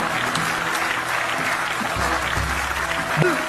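Audience members at a poetry recitation clap steadily in a dense, continuous patter, with a low hum and a few faint voices underneath.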